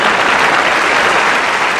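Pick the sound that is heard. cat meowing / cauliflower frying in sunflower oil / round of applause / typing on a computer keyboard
round of applause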